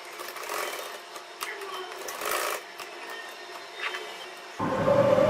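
A sewing machine stitches a cloth tie with a fast, steady mechanical whirr and clatter, ending in a louder, harsher run at close range.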